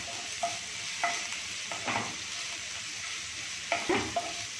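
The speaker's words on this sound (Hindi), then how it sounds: "थोड़ा सा सौते कर लेंगे" Garlic and ginger sautéing in a tablespoon of oil in a frying pan, a steady soft sizzle with a few brief stirring clinks and scrapes, close and alone with no talk.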